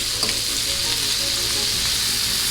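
Butter and garlic sizzle together in a pan before a T-bone steak goes in, making a loud, close, steady frying hiss with faint stirring scrapes and no talking.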